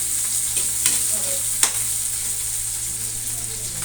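Garlic sizzles steadily in a pan alongside boiled, lightly fried banana heart, with a couple of sharp scraping stirs breaking through the constant hiss.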